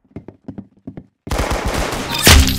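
Rapid bursts of video game gunfire erupt after a few sharp isolated shots, loud and close, with a heavy blast near the end.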